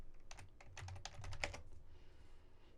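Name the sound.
typing on a computer keyboard to run ipconfig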